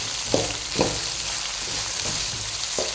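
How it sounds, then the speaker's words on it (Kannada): Fresh green peas frying in hot oil for vangibath, a steady close sizzle with a few louder stirring scrapes and clinks spaced through it, no voices. "ಹಸಿ ಬಟಾಣಿ ಆದರೆ ಎಣ್ಣೆಯಲ್ಲೇ ಫ್ರೈ ಆಗುತ್ತೆ"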